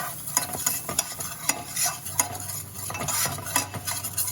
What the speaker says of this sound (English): Stirring it. Cook it until it's a little bit brown, maybe a couple minutes.